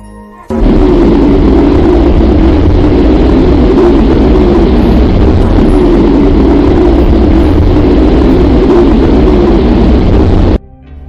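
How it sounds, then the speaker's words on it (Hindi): Sonified sound of the Earth: a steady, loud roaring rumble like distant heavy engines, dense and unbroken from start to finish, with a sudden onset and an abrupt stop. "अब हम आपको अपनी पृथ्वी की आवाज को सुनाएंगे,"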